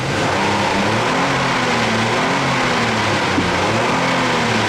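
A 2015 Acura TLX's 3.5-liter direct-injection V6 with front-wheel drive revs steadily, a loud, smooth engine drone with rising and falling harmonics heard from inside the sedan, no speech over it.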